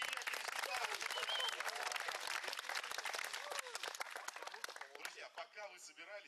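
Youth forum audience in Labinsk applauding, a steady dense wash of clapping that thins toward the end, with some voices under it.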